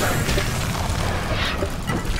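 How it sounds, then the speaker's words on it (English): Bomb explosion in the Spiral Knights video game, a loud, dense boom that fills the whole short stretch with rumbling, crashing noise and no clear pause. "Oh wow, that bomb."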